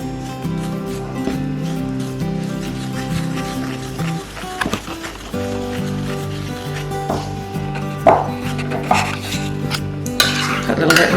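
Natural yogurt being mixed into flour and baking powder for flatbread. A spoon scrapes and knocks against the bowl in irregular strokes, close and fairly loud, over steady background music.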